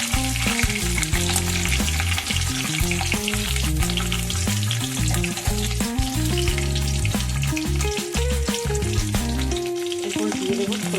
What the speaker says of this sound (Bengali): এরপরে দেবো কাঁচা লঙ্কা, এগুলো ভালো করে নাড়াচাড়া করে নেবো।